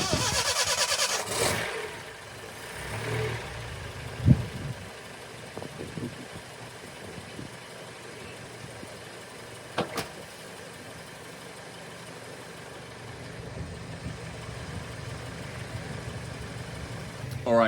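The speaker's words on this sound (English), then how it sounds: "Yeah, let's start the engine." A Datsun 510 engine cranks and catches with a short burst, then settles into a low, quiet idle with occasional clicks and small revs.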